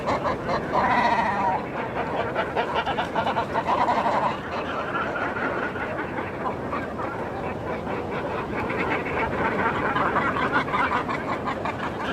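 A nesting bird honks repeatedly in a steady, harsh, noisy stream that carries on for the whole stretch, with a louder burst early on.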